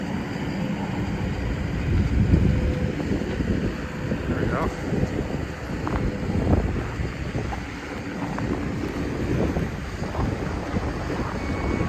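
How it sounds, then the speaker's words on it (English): Wind gusts across the microphone on a bitterly cold Regina winter street in February, about -23C with a severe windchill. It makes a steady, close, low roaring buffet with traffic-like rumble underneath. "I will feel the wind as I turn north here."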